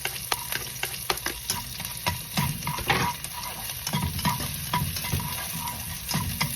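Onion and garlic sauté in a hot pan with a busy, crackling sizzle, broken by repeated scrapes and clicks of a utensil stirring close by, with no talking.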